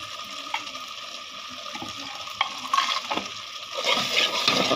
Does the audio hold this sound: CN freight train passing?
no